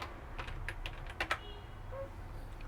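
Quiet close-up keystrokes on a computer keyboard as a terminal command is entered, a quick burst of clicks with a couple of louder taps near the middle, no talking.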